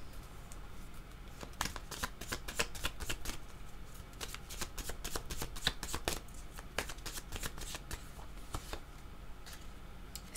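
Tarot cards being shuffled by hand in a quiet room, a steady run of crisp riffling flutters and soft slaps, close and clear with no talking.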